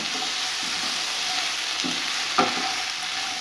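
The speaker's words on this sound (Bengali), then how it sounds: "পেঁয়াজগুলো দিয়ে দিলাম" Sliced onions sizzle steadily in hot oil in a pan while being stirred for a fish curry, with a continuous close frying hiss and a couple of brief scraping stir knocks.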